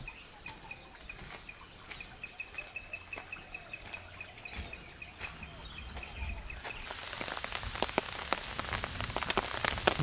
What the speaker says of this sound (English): Now it's raining in Hortons Plain, but it's usual.